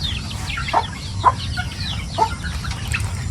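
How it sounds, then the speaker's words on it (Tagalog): Several short chicken clucks ring out at intervals over a steady low rumble of background noise, moderately near. "May mga manok kami dito."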